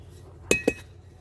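Two fired bhatta kiln bricks of top quality knocked together twice in quick succession, giving sharp, close, hard clinks that ring briefly like iron, with no talking.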